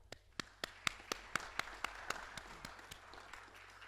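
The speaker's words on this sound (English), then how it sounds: "So everybody please applaud when I state someone's name." Scattered applause from a small audience greeting new residents at a residents' council meeting, with a dozen or so distinct claps spaced irregularly, faint and fading toward the end.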